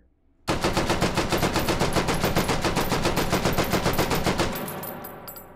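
An AK rifle in the VR game Hot Dogs, Horseshoes & Hand Grenades firing on full auto, a loud, close, rapid, evenly spaced burst of about twenty-five shots that empties the magazine, then a brief echoing tail and a few metallic clicks.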